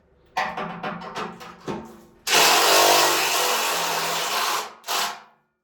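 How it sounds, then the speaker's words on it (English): Cordless screw gun driving screws inside a home-built personal submarine: a few short bursts of whirring and ratcheting, then one long loud drive of about two and a half seconds and a final brief burst, nearby and without talk. "Okay, so screw gun."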